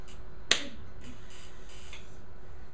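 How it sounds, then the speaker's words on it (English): A single sharp hand clap rings out once, close and crisp against a quiet room, with a faint trailing resonance and nothing else following. "One clap."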